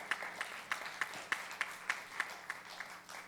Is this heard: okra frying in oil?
no